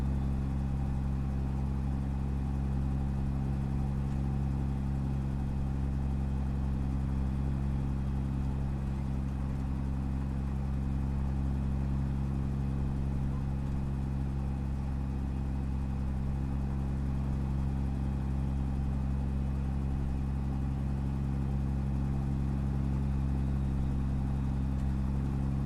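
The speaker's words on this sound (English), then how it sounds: "That's Zeemods sound and effect for the Kenworth." Steady idling diesel rumble of a Kenworth truck with a Zeemods sound mod in American Truck Simulator, a constant deep low drone with a faint high whine, unchanging and close throughout with no talk.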